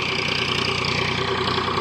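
A tractor engine idles steadily on a farm during bajra (pearl millet) harvesting, a close, continuous low rumble with even mechanical pulsing and no pauses.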